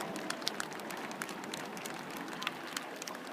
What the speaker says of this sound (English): please, a big round of applause for the fabulous Synchro pair